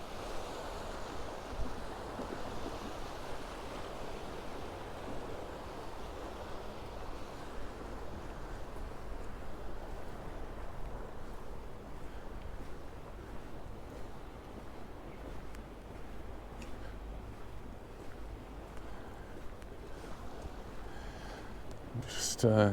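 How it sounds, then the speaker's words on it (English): Small gentle ripples on the sea off the Paguera coast in Mallorca, a soft continuous wash mixed with wind buffeting the microphone, steady throughout with a brief louder knock at the very end. "Just gentle ripples on the sea today"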